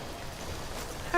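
Rain falls in a video game, a steady soft hiss of drops on surfaces, even and moderately loud throughout, ending with a brief louder bump.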